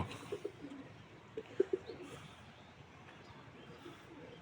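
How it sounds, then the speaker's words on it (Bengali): Pigeons in a breeding cage coo softly nearby, a few short low calls in a small cluster early on, then fading to quiet room background. "পাশের কাছায় কবুতর দিচ্ছে আর ডাকা শুরু করছে সকাল থেকে"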